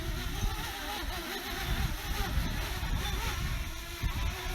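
A DJI Mavic Mini drone flies in high, gusty winds, its motor whir mixed with heavy, buffeting wind noise on the microphone throughout.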